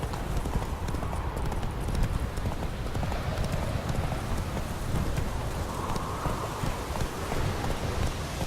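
Clip-clop of Roach, a horse in the Witcher 3 video game, galloping steadily with rapid rhythmic hoofbeats over a constant windy rush, close and loud throughout.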